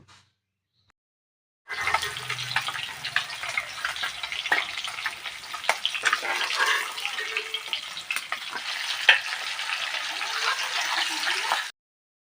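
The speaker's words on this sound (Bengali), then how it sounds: "বাকি মাছগুলো রয়ে গেছে এইভাবেই ভাজা করে তুলে নেব" Rui fish pieces frying in hot oil: a steady, close sizzle with scattered crackles and pops that starts abruptly and runs for about ten seconds, then cuts off, with no talking.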